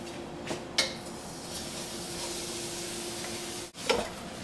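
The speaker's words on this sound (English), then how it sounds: "we're going to saute the quinoa until it gets dry under this warm oil" Quinoa sautés in warm oil in a pan with a soft, steady sizzle, broken by a few brief clinks and scrapes of stirring.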